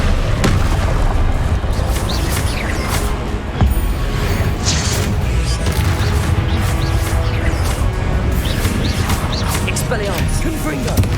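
Confringo explosion spells in Hogwarts Legacy on PS5 go off again and again as heavy booming blasts with crashing impacts, loud and continuous through a dense battle mix, with voiced spell shouts.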